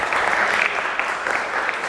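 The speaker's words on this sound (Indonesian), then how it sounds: "Nah, tepuk tangan buat Iklil." Applause from a classroom audience, a short burst of dense, steady hand clapping.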